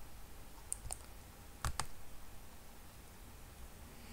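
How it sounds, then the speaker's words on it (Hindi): Mouse clicks on a website's apply button, a few sharp isolated clicks, two early and a closer pair in the middle, against faint background hiss with no talking. "और अब हम यहाँ पर अप्लाई पे क्लिक करते हैं।"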